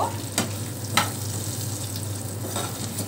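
Spices with turmeric powder are stirred and fried in a pan for a Bengali pabda fish curry, a loud close sizzle with a couple of sharp scraping strokes of the spoon, no talk.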